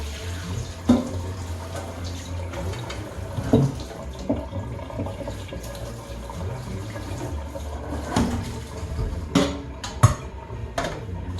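Tap water runs steadily into a kitchen sink as a colander is rinsed before draining spaghetti. The flow is close and continuous, with occasional light metallic knocks from the colander.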